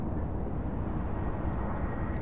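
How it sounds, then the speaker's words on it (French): A steady, loud airplane cabin drone from the video game Beyond Two Souls: low, even engine rumble with no breaks. "Nous sommes dans un avion, en fait."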